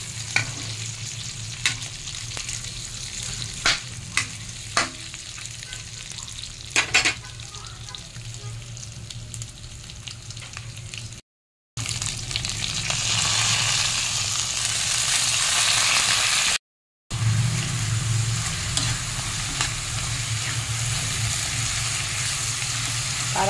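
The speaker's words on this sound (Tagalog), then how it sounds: "Meron tayong leftover na lechon kawali. Gigisa natin sa patola." Leftover lechon kawali and sponge gourd sizzle and crackle in a pan while being stirred, with a steady loud frying hiss broken by brief pauses and a few clanks of the spatula.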